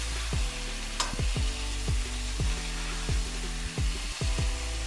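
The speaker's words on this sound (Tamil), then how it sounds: "தக்காளி பழத்தை இப்போ போட்டு வதக்கலாம்" Tomatoes sauté in a hot pan, a continuous close sizzle broken every half second or so by a regular rhythmic scraping of the spatula, with one sharp clink near the start.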